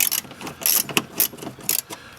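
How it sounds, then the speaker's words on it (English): A ratchet wrench clicks in quick bursts as it loosens a bolt on a 2003-2007 Honda Accord, close and fairly loud, with several short runs of sharp metallic ticking separated by brief pauses. "I can just remove this bolt so we can get some better access"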